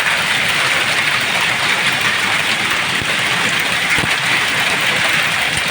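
Large hailstones pouring down in a heavy, continuous hiss and patter, a dense steady roar of ice striking surfaces with no pauses.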